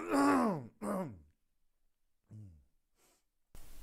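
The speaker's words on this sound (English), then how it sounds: "I'm going to clear my throat again" A person clears their throat with a couple of voiced, rasping vocal bursts, followed by a softer grunt and a faint breath after a pause.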